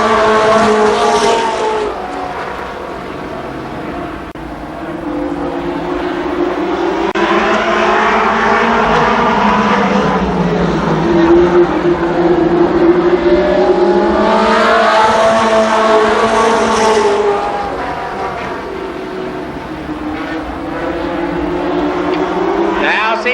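Winged sprint cars racing around Columbus Motor Speedway in 1993, engines roaring loudly and continuously, rising and falling in pitch as the pack passes, with an announcer talking over the noise.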